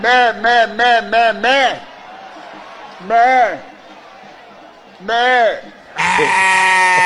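Sheep bleat repeatedly in quick wavering bursts, a cluster of calls followed by separate bleats after pauses, loud and close.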